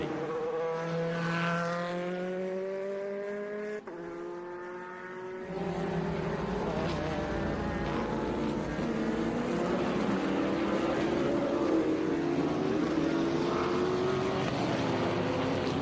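Race cars at Sebring approaching the hairpin in a vintage and historic race, loud close engines droning at rising and falling pitch, with several cars overlapping and a sharp burst as another machine roars past.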